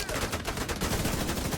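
Dense, rapid bursts of fireworks-like gunfire crackle continuously in The Division 2, loud and close with no pauses.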